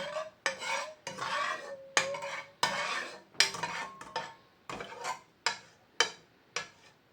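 Wheat flour being stirred into ghee in a pan for gor papdi, a spoon scraping and knocking against the metal in a steady series of close, rhythmic strokes, with a faint sizzle underneath.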